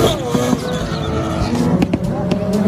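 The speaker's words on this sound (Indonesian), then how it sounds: "Yang ini ada mobil balap F1." F1 race car engine howling past with brief tire squeals and skids, a loud, busy burst of shifting engine pitch and scraping bursts over a couple of seconds.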